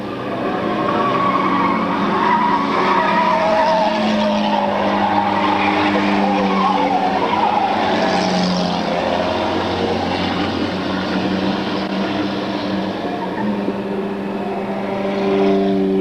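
A 1987 Toyota Tercel race car, number 66, passes among other cars in a racing event, giving a loud, sustained engine roar with shifting tones and some tire squeal.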